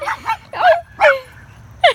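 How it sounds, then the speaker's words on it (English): A very small dog barks and yips in a quick series of high, sharp, whiny barks with short gaps between them, close by and clear during an outdoor walk. "That was the cutest little dog I've ever seen."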